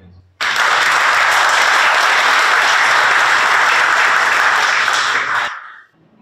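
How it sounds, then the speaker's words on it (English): Audience at a scholarship ceremony breaks into loud, steady applause that starts abruptly and fills the room for about five seconds, then stops cleanly. "a round of applause for all of you, please."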